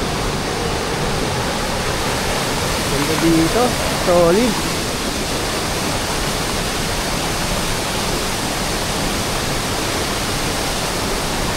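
Gabaldon Falls roars on steadily, a dense, loud wash of falling and running water that fills the whole scene without pause, while someone speaks briefly over it.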